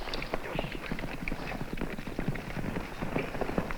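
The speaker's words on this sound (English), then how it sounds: "Horses are coming." Several horses approach with quick, scattered hoof clip-clops over a dusty trail, moderately distant and steady throughout, in an old cartoon western scene.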